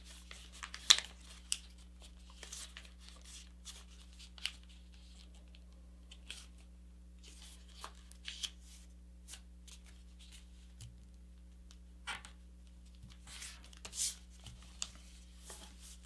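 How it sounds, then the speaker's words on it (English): Paper is folded and creased by hand while making a paper airplane, with scattered soft crinkles and sharp brief swipes over a low steady hum, close and quiet, and no voices. "I'm pulling and making a crease right along this edge."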